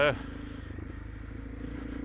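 A Honda CRF300 Rally motorcycle engine pulls steadily in third gear, a low, even drone with a faint rhythmic pulse. A person talks over it.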